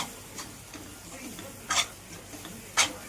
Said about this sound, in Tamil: மசாலா வாசனை போகிற வரைக்கும் நிறைய கிண்டிட்டு இருக்கணும்.